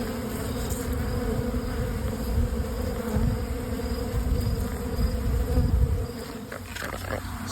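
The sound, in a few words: swarm of bees robbing a hive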